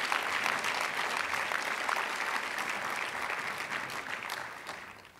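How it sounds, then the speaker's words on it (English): Audience at a university lecture event applauding, a dense, sustained clapping from a crowd that stays steady and slowly tapers off over several seconds. "Let's give a round of applause"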